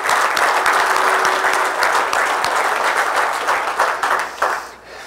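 Audience applause at a keynote event, loud and sustained clapping across the whole stretch, tapering slightly toward the end.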